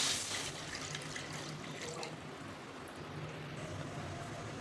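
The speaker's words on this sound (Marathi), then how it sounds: "तर कढईत पाणी ठेवायचं." Water pouring into a kadhai for steaming crispy bottle gourd and sprouted moong fritters, a steady splashing stream loudest at the start and continuing evenly throughout, with no talking.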